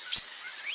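A cartoon character imitates a bulbul's call with a single short, bright whistled chirp, close and clear, followed by a faint trailing tone.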